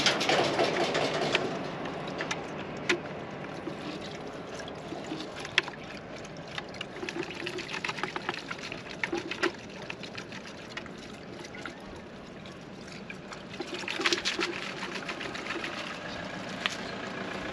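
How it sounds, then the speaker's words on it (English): Caravan wheel bearings washed in fuel or degreaser, with close liquid sloshing and swishing plus scattered small metallic clinks, steady and moderately loud throughout. "Just cleaning them in a bit of fuel or degreaser."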